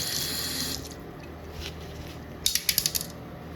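A gold-plated Andamooka ring being rinsed under a running kitchen tap: a steady stream of water, then a few quick metallic clinks against the sink near the end, with no one speaking.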